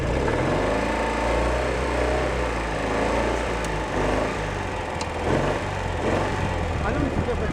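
A Citroen 2CV's small engine drones continuously from inside the car, a steady buzzing hum with a low rumble beneath, while someone talks over it.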